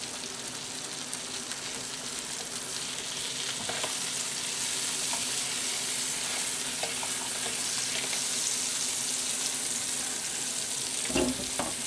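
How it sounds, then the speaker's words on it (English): Sausages sizzle steadily in a hot frying pan, a dense continuous crackle with a few brief clinks and pops, with no talk over it. "So they say they're going to take about 22 minutes to cook them sausages."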